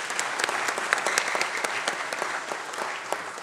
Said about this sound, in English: Welcome him with a clap of hands,